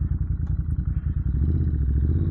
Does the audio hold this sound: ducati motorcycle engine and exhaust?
yes